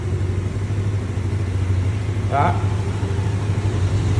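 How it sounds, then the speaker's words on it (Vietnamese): A Honda Spacy police scooter engine idles with a low, steady hum, and someone speaks over it. "nó đang nổ máy đó, nó đang nổ máy, nó bánh nó quay đó"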